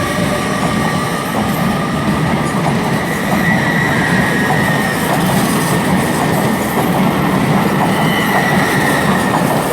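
Class 800 trains move through London Paddington station in a loud, continuous rumble with rolling wheel noise and faint squeals, steady and close, no voices.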